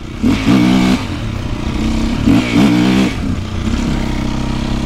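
A motorcycle engine, ridden again after three months off, revs out in a wet field in repeated loud throttle blips that rise and fall over a steady idling drone, close and dominant with no voices.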